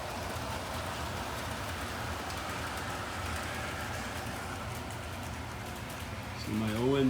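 An On30 model train runs on a layout, giving a steady, close rumble and rolling hum throughout with a slight lift near the end, where a brief voice enters.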